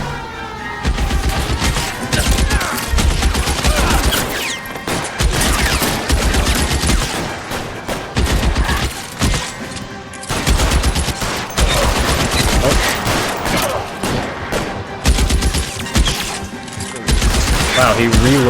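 Sustained gunfire volleys in a video game roar loud and dense for the whole stretch, rapid shots running in long bursts with brief gaps, while voices talk underneath.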